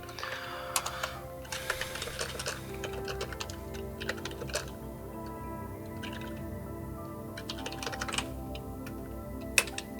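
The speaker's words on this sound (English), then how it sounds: "I can just start typing, and let's see how it actually performs, since I'm going to be using my external keyboard hooked up to my PC" Steady typing on an external PC keyboard, a dense run of close, crisp key clicks with irregular rhythm and occasional sharper strikes over a faint background hum.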